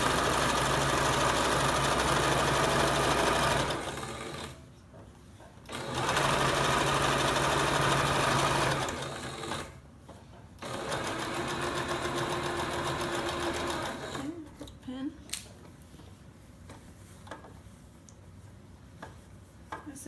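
A sewing machine runs in long, steady bursts while stitching small seam allowances on reversible shorts, stopping briefly between runs, followed by lighter clicks and handling noises near the end.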